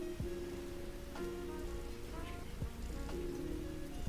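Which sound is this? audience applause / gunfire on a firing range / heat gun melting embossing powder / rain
rain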